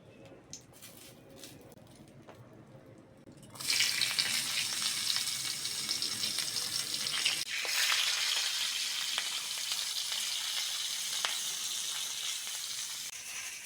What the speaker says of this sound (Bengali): ওই বেগুনের সঙ্গে রসুন কাঁচা লঙ্কার পেঁয়াজটাও ভেজে নাও